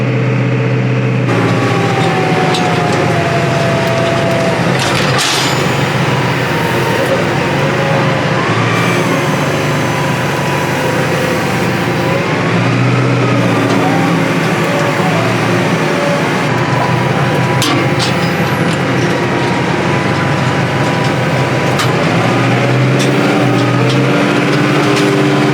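A blue tractor engine pulls a cultivator after a downshift, with a loud, close, steady diesel drone and rumble that shifts slightly in pitch under load and carries on continuously without talk.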